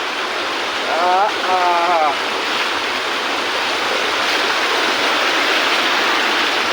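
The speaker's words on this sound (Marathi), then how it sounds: "तर मित्रांनो धबधबा आलेला आहे जवळ" Steady roar of rushing water from a waterfall in the Konkan fills the whole stretch, with a brief voice rising over it near the start.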